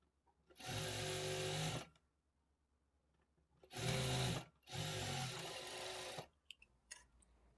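A sewing machine stitches a lining blouse in three steady runs, the first and last about two seconds each with a longer run between, separated by brief quiet pauses.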